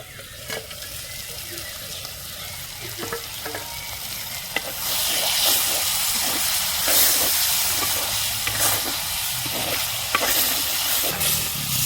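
Mutton sautéing in a clay pot, dhaba style, with a low sizzle that grows louder and steamier partway through, while repeated scraping strokes of stirring are heard close by.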